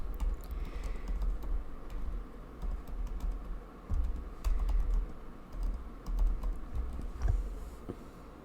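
Typing on a computer keyboard: rapid, uneven clusters of light key clicks close by, with short pauses between bursts and a few heavier taps. No one speaks.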